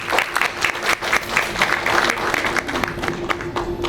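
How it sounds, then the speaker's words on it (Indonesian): Audience at a clinic anniversary stage event applauds steadily as a doctor comes on stage, a close, busy patter of many hands, with a faint voice or tone humming underneath. "Kita berikan tepuk tangan untuk Dr."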